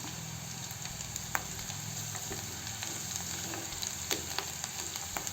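Chopped capsicum being stirred with ginger-garlic paste in a frying pan, a soft continuous sizzle punctuated by light scrapes and taps of the spoon at irregular intervals, with no talk.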